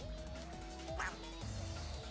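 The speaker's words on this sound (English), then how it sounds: "Why is he quacking?" A video game character gives a few short, nasal quacks in a loose rhythm against quiet game sounds and a faint voice.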